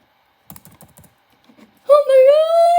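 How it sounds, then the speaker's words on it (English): A few quick, light clicks of typing on a computer keyboard sound close up, then a loud, sustained voice cuts in over them. "Guys, I can't even type."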